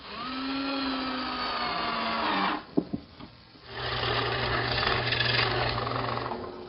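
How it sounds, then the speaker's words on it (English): A power drill whines steadily, briefly stops with a couple of clicks, then resumes with loud, continuous grinding as a 1 3/8-inch Forstner bit cuts holes in wood. "Now I'm drilling some 1 3/8" diameter holes with a Forstner bit"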